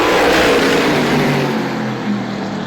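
Modified race cars roar off at the start of a heat at Star Speedway, a loud, dense wall of engine noise that eases slightly as the pack pulls away.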